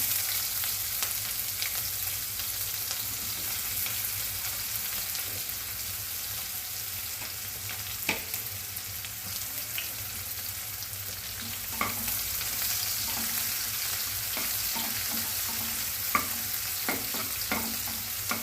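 Onion and crushed garlic fry in oil with a continuous soft sizzle, punctuated by sharp clicks and scrapes of a spoon stirring against the pan, close and moderately loud with no voices.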